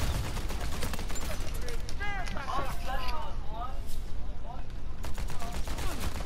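Rapid gunfire in Uncharted 4: A Thief's End, sharp repeated shots crackling throughout while a player talks over the action.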